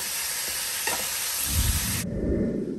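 Chicken tinola cooking in a pot on a home stove, a sizzling, bubbling simmer with stirring, then the bright hiss cuts out as a lower rumble continues.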